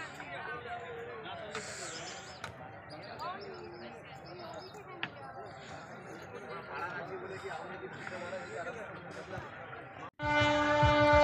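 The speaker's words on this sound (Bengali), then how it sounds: "ফুল বাগানের পাশ দিয়ে ট্রেন চলে যাচ্ছে" Continuous rumbling and rattling of a train going by beside the Khirai flower fields, ending with a sudden loud horn blast close at hand.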